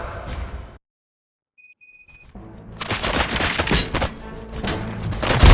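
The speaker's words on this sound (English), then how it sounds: "Gunshots? What's going on?" Gunfire in RoboCop: Rogue City erupts in a dense burst of rapid shots after a short silence and a few electronic beeps, loud and close, building in intensity toward the end.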